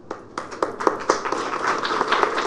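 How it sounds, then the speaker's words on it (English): A short burst of audience clapping for a woman who has just finished speaking, dense and steady with no voices over it. "I think she is worth a big applause"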